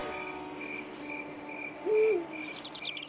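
A night scene in an animated island adventure: an owl hoots once over steady chirping crickets, then a quick run of bird chirps rises at the end.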